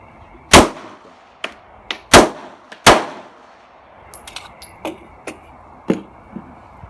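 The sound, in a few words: Avidity Arms PD10 pistol being fired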